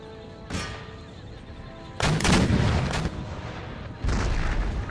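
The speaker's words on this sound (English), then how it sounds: "Engage the third light horse with the artillery." Artillery fire in the Empire: Total War strategy game, with several deep, booming cannon blasts rolling out one after another, loud and reverberant against a low battlefield rumble, with no speech.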